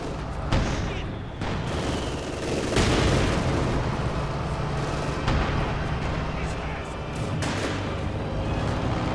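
Gunfire and mortar shooting in a war strategy video game, a steady wash of battle noise with repeated booming blasts and crackling shots throughout, loud and dense, with a voice talking over parts of it.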